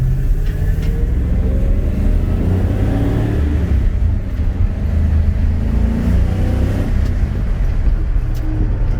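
A 1971 Ford XY Falcon GT-HO Phase 3 replica accelerates hard, its engine a loud, continuous throaty roar that climbs and surges over nine seconds, heard close from inside the car with no talking.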